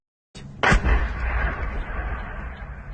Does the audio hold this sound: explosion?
yes